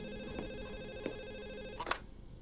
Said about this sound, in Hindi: यूनिस कॉर्पोरेशन के डॉक्टर हाइड को अभी फोन लगाओ